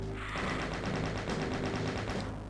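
Gunfire from the video game Doom Zero on Map14, Crust, set in hellish catacombs, comes as a loud, rapid, evenly paced stream of shots that runs almost the whole time.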